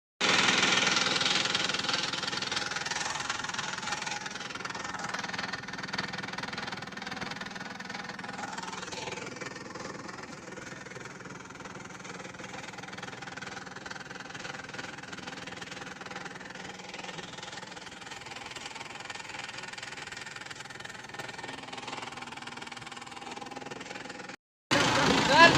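A tractor hauling a trolley loaded with bricks reverses in a village setting, its mid-pitched engine chugging steadily and continuously up close, with speech over it throughout.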